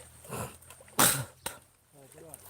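A loud, harsh throat-clearing snort erupts, followed by a short sharp hack, with a voice murmuring faintly before and after.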